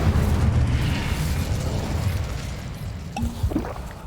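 Incendio fire spell cast in Hogwarts Legacy, a loud roaring whoosh of flame with a deep rumbling body that swells and then eases, ending in a few crackling pops.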